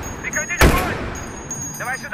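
A single heavy .50 caliber gunshot booms in the video game Battlefield 3, a sharp, loud crack with a short tail, while people talk softly before and after it.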